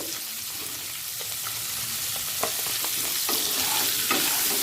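Diced capsicum and onion stir-fry in hot oil with a steady, close sizzle, while a spatula clicks and scrapes against the pan every so often and the frying grows slightly louder.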